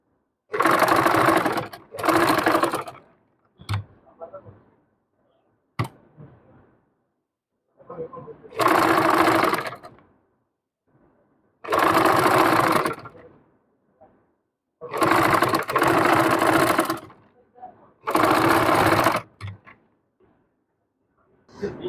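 A sewing machine runs in repeated loud bursts, stitching a neck design on a garment. Between the bursts comes quieter handling noise with a little low talk.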